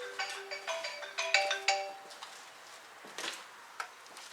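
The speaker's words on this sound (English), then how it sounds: "Fuck this fucking phone." A phone ringtone chirps in a rapid, repeating melodic pattern for about two seconds close by, followed by scattered clanks and knocks of work under a vehicle.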